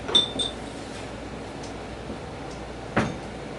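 Small drinking glasses clink lightly together at a tasting gathering, two quick bright taps near the start and another faint knock later over a quiet room hum.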